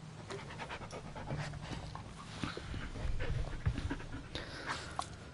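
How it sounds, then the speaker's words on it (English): A dog in the Blair Witch video game pants quickly and softly, close by, with light rustling and footstep-like taps underneath. No one speaks. "Right, let's pet the dog. Yeah, good dog."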